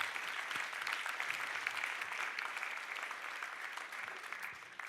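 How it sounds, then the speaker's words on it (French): Audience applause at a French panel discussion on family farm transmission, a steady, dense clapping sustained for about five seconds at moderate distance with no talk over it. "Donc je crois que tout le monde, avant les questions,"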